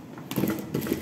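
Sewing machine stitching along the edge of a seam beside a zipper, a near steady mechanical whir starting after a brief quiet moment and running to the end without talk.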